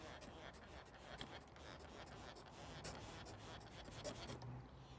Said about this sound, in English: I'm gonna just spray a little bit of water in here